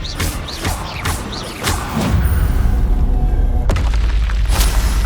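A Confringo fire spell explodes in the Hogwarts Legacy video game on PS5, a heavy booming blast with a deep rumbling tail following a series of sharp magical whooshes and impacts.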